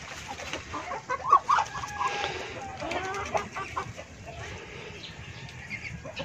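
Pet chickens and ducks feed nearby, with soft clucking and fowl calls over scattered pecking and rustling, fairly close and moderately quiet, with occasional faint voices.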